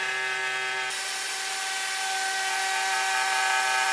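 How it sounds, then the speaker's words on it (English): A router runs steadily down a wooden slab joint to flatten it, a loud continuous high whine close by that holds its pitch throughout, with no talking. "So I'm just running a router down to get something really flat."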